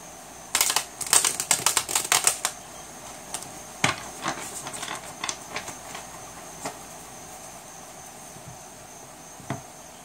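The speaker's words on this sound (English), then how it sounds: "I want to give it another shuffle here." Tarot cards are shuffled in a quick run of crisp clicking flicks, followed by scattered softer taps and a few isolated card snaps in a quiet room.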